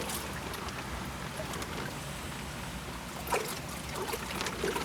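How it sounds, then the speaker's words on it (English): Water pours and splashes out of a plastic koi transport bag outdoors, a steady broadband wash with small trickles and splashes, moderately close and without talk. "Pour more water out, like so."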